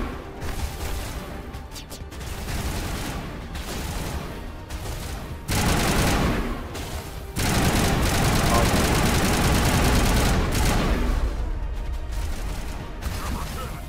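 Rapid bursts of gunfire in the video game Mass Effect crackle in loud, dense volleys with brief pauses between them, mixed with engine hum and game effects under occasional talking.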